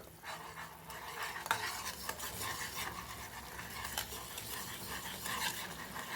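Jowar flour is stirred into boiling water in a pot for upma over a low flame, giving repeated scraping and clinking spoon strokes over a soft bubbling bed, close and without speech.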